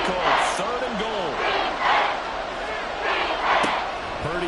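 Stadium crowd inside the Dome during an American football game in Madden 24, a sustained roar of cheering and shouting that swells in repeated waves, with a sharp whistle-like accent near the end.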